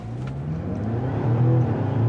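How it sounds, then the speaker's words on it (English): A 2024 Mazda CX-90 PHEV plug-in hybrid SUV pulls hard at full throttle in sport mode, its engine drone rising steadily and growing louder over two seconds with a smooth electric whir beneath. "We'll go ahead and floor it, or brake torque it."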